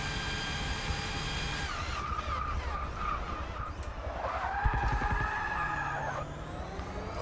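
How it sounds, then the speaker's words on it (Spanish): Tires squeal and skid as a race car drifts in Forza Motorsport 6, a long screeching slide over steady engine noise, with a second rising squeal partway through and no talk. "Joder, cómo se va el coche, cómo derrapa."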